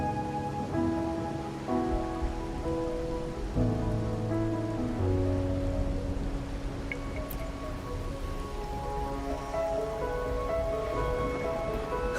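Rain falling in the video game Wuthering Waves, a steady soft patter on surfaces beneath a sustained layer of tonal game music, with a faint drip or two later on.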